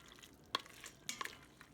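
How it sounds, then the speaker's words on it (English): A spoon stirs freshly cooked Instant Pot mac and cheese, giving a few soft, quiet clicks and scrapes against the pot in near silence. "So stir it up, Mila."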